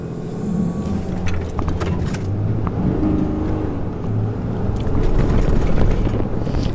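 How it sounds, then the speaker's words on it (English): A Ram 3500 Limited Mega Cab truck pulls away after being held on the brake with the gas pressed. Its engine roars loudly from inside the cab and builds through the run, with a hesitant gear change and wind noise. "I'm going to hold down the brake and I'm going to push the gas to build up the pressure so you guys can see a difference in the acceleration."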